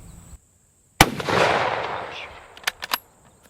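A carbine rifle fires one sharp, loud shot at close range, followed by a decaying outdoor echo. Then comes a short cluster of metallic clicks and clacks, likely the action being worked.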